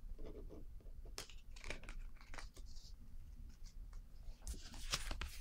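Tarot cards being handled and shuffled during a card reading, with soft papery scrapes, flicks and rustles scattered irregularly, fairly close and quiet, with no talking.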